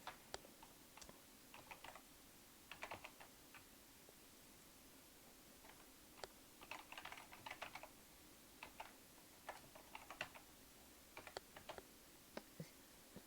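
Sparse, uneven typing on a computer keyboard while writing C++ code, quiet clicks in short bursts and isolated taps over a faint background hum.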